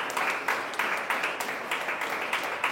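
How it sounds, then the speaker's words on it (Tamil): An audience claps at a spiritual talk in Tiruvannamalai, a moderately loud, even wash of hands with periodic swells, heard alone with no voices. "ஒரு கைத்தட்டிங்க."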